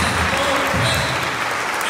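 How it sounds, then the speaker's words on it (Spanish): Church congregation applauding at an evening worship service, a steady dense wash of clapping filling the full stretch, loud and close. "Denle un fuerte aplauso a Jesús en esta noche."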